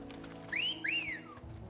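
A two-note rising whistle summons a chocobo in Final Fantasy XVI, two quick bright swoops heard clearly over quiet rain-like ambience.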